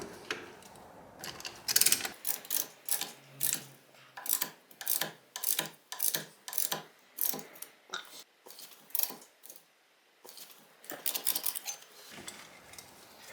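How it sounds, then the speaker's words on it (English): A ratcheting tool pushing back the brake caliper piston on a C4 Corvette's front brake: a steady run of about twenty close, crisp mechanical ratchet clicks in an even rhythm, with a brief pause near the end. "I have a tool that just helps push it back, ratchets it in."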